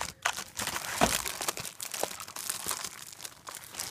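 Packaging for a Corsair K95 RGB keyboard is pried apart by hand, giving irregular crinkling, crackling and tearing bursts of plastic and cardboard over several seconds, close and moderately loud without talk.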